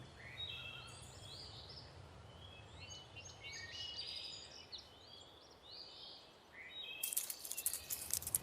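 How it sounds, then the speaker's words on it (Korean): A dry savanna at dusk with a soft insect drone, faint and steady, overlaid by chirping bird calls and a brief louder rustle near the end. "마른 매미 소리와 타버린 풀밭을 스치는 바람 소리만 들렸다"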